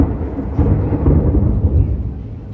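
Thunder rumbles low and heavy during a rainstorm, a rolling, sustained growl close by with no voices.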